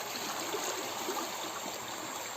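The Cimuntur River runs high, a steady, close rushing of flowing water that fills the whole stretch without pause.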